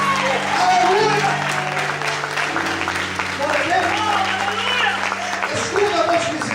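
A church congregation applauds during an evening worship service, with a steady wash of clapping over sustained music tones and voices throughout.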